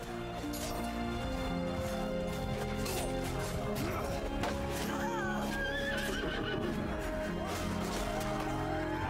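Horses neighing and hooves clattering in the Mount & Blade II Bannerlord video game, shrill whinnies over a dense battle soundscape with steady drones and clashes, continuous and loud throughout.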